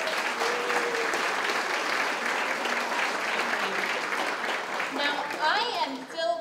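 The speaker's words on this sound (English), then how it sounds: "a big round of applause for our sponsors, please" Luncheon audience at a senior LGBT Pride event applauds its sponsors with sustained, dense clapping throughout, with a few voices and cheers rising near the end.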